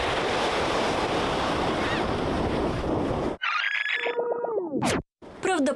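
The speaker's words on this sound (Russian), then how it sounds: "спешим к долгожданному морю с теплым мелким песком" Black Sea surf on a warm, fine-sand beach in Crimea rushes as a loud, steady wash of waves and wind, then cuts abruptly to a few bright electronic tones.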